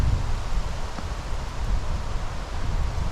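Strong wind blows steadily at an outdoor campsite, a loud, continuous roar with gusty rustling buffeting the microphone throughout, no voices.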